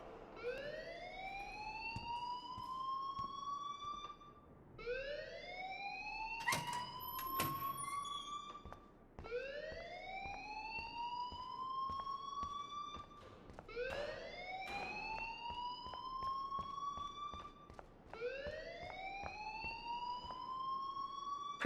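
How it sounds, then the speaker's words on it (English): A school alarm in the video game Life is Strange wails in repeated rising electronic sweeps, five long cycles at a steady rhythm, fairly faint and continuous, with a brief clatter partway through. "please turn off that alarm since that's your job"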